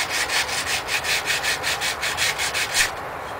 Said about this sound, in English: all you want to do is fold your sandpaper, and you can actually just get in there with the fold